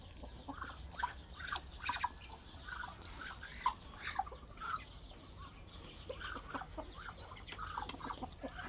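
Chickens cluck in a farmyard, with repeated short calls scattered irregularly over a steady faint background, no voices heard.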